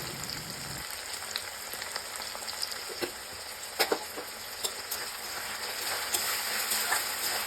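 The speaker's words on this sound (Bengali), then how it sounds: "টমেটোটা ভাজা ভাজা হয়ে গেলে তার মধ্যে দিয়ে দিচ্ছি 2 চামচ আদা রসুন বাটা" Chopped tomato frying with ginger-garlic paste in a pan for doi ghugni, a steady bright sizzle like light rain with a few sharp spatters and stirring knocks, close and continuous without voices.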